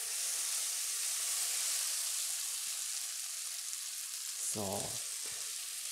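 Peppers, onions and garlic for shakshuka sauté in a pan over medium heat, giving a steady, close sizzle throughout, with a short spoken word near the end.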